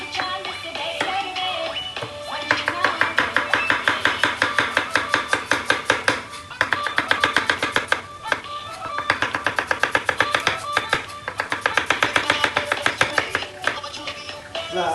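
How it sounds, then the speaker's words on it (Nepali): An onion being chopped on a board for home-cooked chicken biryani: rapid, rhythmic knife strikes in several quick bursts with brief pauses, close and crisp. "हाम्रो प्याज कटाइ भइसकेको छ"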